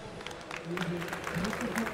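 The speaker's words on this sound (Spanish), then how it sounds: "Un aplauso, por favor." An audience at a tech conference talk on smart cities applauds, a soft, fairly distant patter of clapping under someone speaking.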